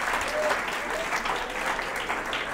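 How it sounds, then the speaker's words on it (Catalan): Studio audience at a Catalan local-TV word quiz show claps for a contestant, a dense, steady patter of applause lasting a few seconds with no talking over it. "aplaudiu-la, aplaudiu-la, sisplau"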